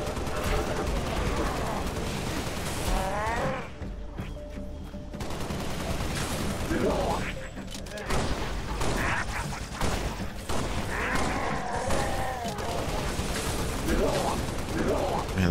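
Rapid gunfire and explosions fill a Halo: Spartan Strike firefight, loud and nearly constant throughout, with bursts of automatic fire layered over game effects and voices.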